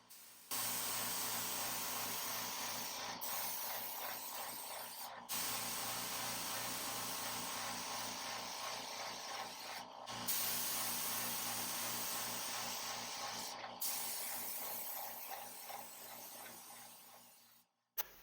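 Enamel acrylic paint hisses steadily from a spray gun onto a bunk bed, long continuous bursts broken by a few short pauses, close and even in level.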